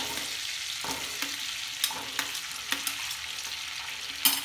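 Onion frying in butter for butter chicken, a continuous close sizzle with occasional clicks and scrapes of a spoon against the pan, no one talking.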